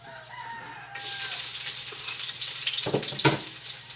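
Garlic sizzling in a pan on an electric stove for Filipino fried rice (sinangag), a bright frying hiss that jumps up after the first second and stays loud and close, with a few scraping knocks near the end.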